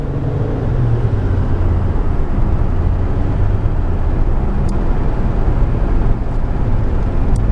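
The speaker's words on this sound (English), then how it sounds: "But you hear that engine?" A 2015 Nissan Pathfinder's engine drones at a steady low pitch from inside the cabin while driving, with constant road rumble and no talking.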